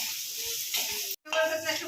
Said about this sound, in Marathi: आता हे 5 मिनटं आपण छान मिक्सच करत राहूया तव्यामध्ये.